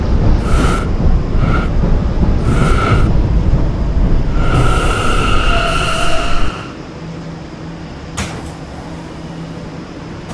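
A Roblox PTA Subway R179 train on the B line runs steadily, with a loud continuous rumble that drops to a quieter hum about two-thirds through, while automated announcement tones and a chime sound over it.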